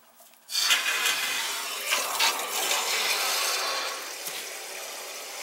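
Water rushes steadily through a freshly cleaned tankless coil pipe in a home boiler, a sudden hissing flow that starts abruptly and continues close by, gradually easing.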